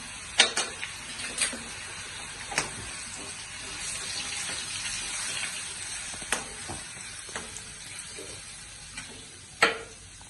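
Crushed garlic cloves frying in hot oil in a pan for a Gujarati curry, a steady soft sizzle with several sharp crackles and spoon taps across it, close and moderately quiet.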